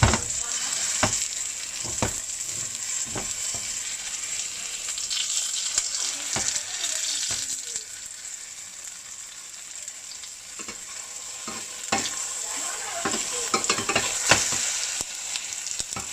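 Beaten egg frying around smashed eggplant in a pan for a Filipino eggplant omelette, a steady close sizzle with scattered sharp pops and crackles throughout.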